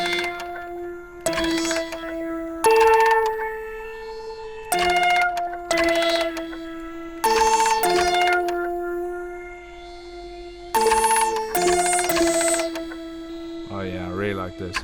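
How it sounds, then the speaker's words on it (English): Kinetic Treats record player module in Kontakt, a gentle plucked, chime-like melody played in repeated phrases over soft background noise, ending with a short, warbling mechanical sound of the record player arm; no speech. "you can hear that sort of arm of the record player afterwards"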